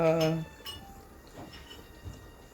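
A metal lid is set back onto a cooking pot after cream is added, giving two sharp close clinks near the start, followed by faint rattling and soft handling noises.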